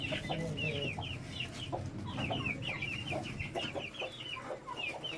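Frightened Thai Shamo and Aseel hens cluck repeatedly in quick, agitated bursts nearby over a low background rumble, the calls overlapping in a continuous nervous chatter.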